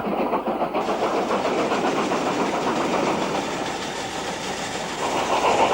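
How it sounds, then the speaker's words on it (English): A 9F steam locomotive hauling a freight train downhill toward a platform road on a steep bank, its steady rumble and rhythmic clatter of wagons rolling close by, loud and continuous. "The signal indicates that the 9F coming downhill will take the platform road."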